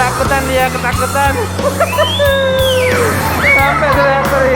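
Children scream and yell in high, wavering bursts on a ride at an arcade game hall in Tiara Dewata, Bali. The voices are loud and close over steady background music and arcade hubbub.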